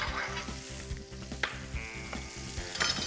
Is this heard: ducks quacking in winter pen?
no